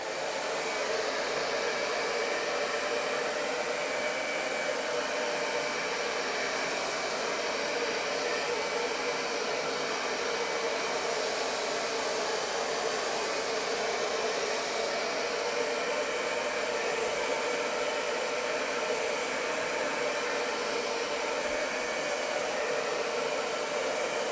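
A hair dryer blows steadily and loudly from start to finish while a backdrop is set up, its broadband airflow roar never letting up and with no voices over it.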